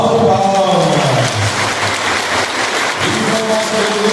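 A church congregation claps steadily during a Holy Thursday Mass for Saint James in Minas Gerais, a dense, even patter of hands with a voice faintly present underneath.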